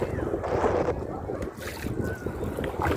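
Boat paddled on water, soft rhythmic splashes and swishes of the paddle against a rushing breezy background with some wind noise, close by.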